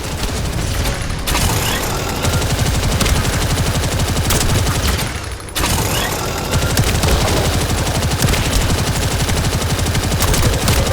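Sustained, loud video-game gunfire fills the scene: dense automatic fusillades and rapid shots with booming impacts. It cuts out briefly around the midpoint, then resumes just as intensely, with no talk.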